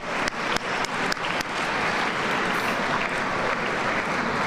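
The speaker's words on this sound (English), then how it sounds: "let's give them a round of applause" Audience applause at a celebration of Mayor Harold Washington's 100th birthday, starting with several separate claps and swelling into sustained, steady clapping from a large crowd that fills the room without any speech.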